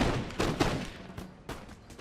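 Musket volleys in a Napoleonic-era battle from Napoleon: Total War, a series of sharp cracks and crackling bursts at about half-second intervals over a rumbling battlefield din, moderately loud with no talk.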